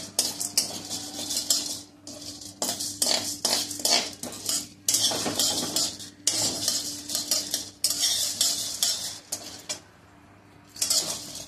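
Chana dal dry-roasts in a pan on a full gas flame, stirred constantly, so a utensil scrapes and rattles the dry lentils in rhythmic bursts with short pauses, close and fairly loud.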